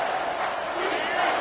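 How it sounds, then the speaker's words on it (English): Football stadium crowd roaring loudly on a third down after a false-start penalty, a dense sustained roar of cheering filling the space without a break. "3rd down, and this crowd is bringing down the house"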